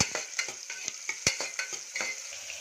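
A large onion hits hot oil in a pan with a steady bright sizzle, broken by a run of sharp scraping stir strokes and clinks at an irregular rhythm, close and fairly loud, with no voices.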